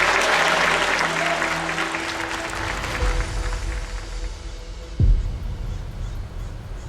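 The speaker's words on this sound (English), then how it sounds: "So give our legal team a big round of applause" An audience at a talk on culturally sensitive senior care gives a round of applause for a legal team, loud clapping at first that fades away over a few seconds, with a single sharp knock near the end.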